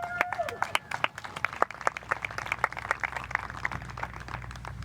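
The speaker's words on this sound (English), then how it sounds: "Next on the tee, let's hear a warm round of applause for Catrina Allen." A small outdoor gallery at a professional disc golf tournament claps for a player on the tee, a scattered, distinct patter of individual handclaps heard at a moderate distance that fades gradually.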